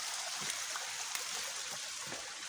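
A mountain stream with milky-colored water after heavy rain runs steadily, a continuous close rush and trickle with faint gurgles, no voices over it.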